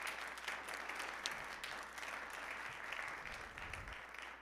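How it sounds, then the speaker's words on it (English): Applause from an audience at a regular board of education meeting, a steady mass of clapping held at moderate, slightly distant level throughout with no gaps. "So please clap it up one more time for them"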